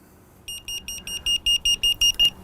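In-car sensor threshold alarm sounding inside a vehicle: a quick series of about ten clipped electronic beeps, clear and steady, growing slightly louder and faster at the end.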